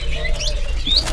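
A Foxey Mandarin bird in a bird-market shop gives a few sharp, high chirps and short tweets, close by over a low hum of background noise.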